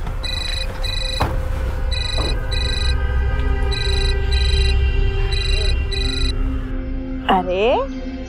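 A telephone rings loudly and close in an indoor drama scene, with repeated bursts of an electronic ringtone separated by short pauses. A voice sounds briefly near the end.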